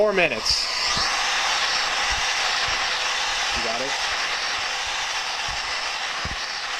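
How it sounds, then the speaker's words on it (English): A heat gun blows steadily over the capacitors of an Xbox 360 motherboard during a red ring of death repair, a continuous close airy roar with a few low thumps and brief speech at the start. "putting your heat gun right over all of these capacitors"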